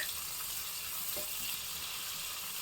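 Butter with a little oil sizzles steadily in a pan, a soft continuous hiss at close range with no talking.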